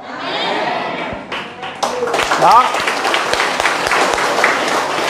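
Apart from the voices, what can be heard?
congregation clapping in church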